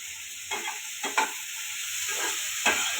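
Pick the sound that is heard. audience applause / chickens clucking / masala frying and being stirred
masala frying and being stirred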